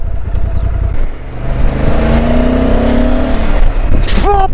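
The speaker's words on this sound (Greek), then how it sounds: "ανοίγει τον γκάζι και εντάξει, το μηχανάκι δεν κουνάει" A Honda Transalp 750 motorcycle on a test ride, its engine droning loudly and rising in pitch as the throttle opens, under steady wind rush.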